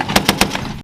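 A .50 caliber machine gun fires a short burst at a range target during the Western Strike 22 exercise: about three sharp, loud reports in quick succession, evenly spaced, followed by a ringing tail.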